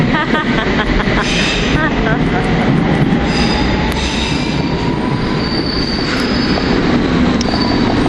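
A train bound for Sevenoaks rumbles past steadily and loudly near Denmark Hill, wheels squealing and rails clattering throughout, with a faint voice in the background.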